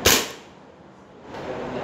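Single sharp crack of a practice gun fired at a practical shooting range, loud and close, followed by a faint lingering decay and low background noise.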